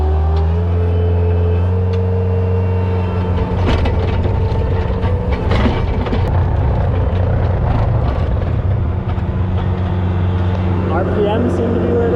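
Bobcat T190 skid steer engine revving at full throttle, a loud steady diesel drone with a rising pitch, continuous throughout.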